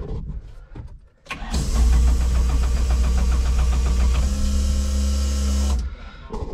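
A Barra-swapped Holden Pintara drift car starts up and idles loudly and steadily for several seconds at close range, its engine note shifting partway through before cutting off, with no talk over it.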